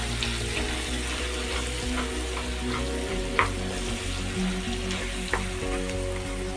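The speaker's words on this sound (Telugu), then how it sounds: "పోపు బాగా అయిన తర్వాత ఇప్పుడు మనం మిక్సీ చేసుకున్న చింతపండు చట్నీ" Blended tamarind chutney with green chillies sizzling in hot tempering in a pan, a loud continuous crackle and hiss with a couple of sharp spoon taps against the pan, close up with no talking.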